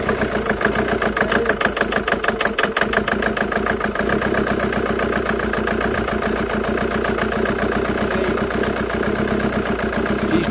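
A Jaguar X-Type 2.2 diesel, in limp mode with an EGR valve fault, catches and runs rough: a loud, close, uneven clattering idle with a lumpy pulsing rhythm that settles into a steadier drone, with no talking.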